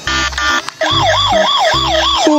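A toy police car, a Lamborghini model, blares a loud electronic siren: a few beeping tones at first, then a steady rising-and-falling wail, close and alone.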